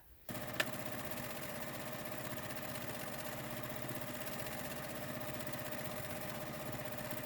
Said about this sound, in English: So now we're going to sew all of these strips right sides together